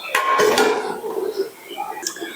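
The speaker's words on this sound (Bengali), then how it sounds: "এবার আমি 20 মিনিটের জন্য ঢাকনাটি দিয়ে ঢেকে দেবো" A metal lid set down over a pot of mutton kasa curry, one clattering clink followed by a few lighter rattles, close and brief.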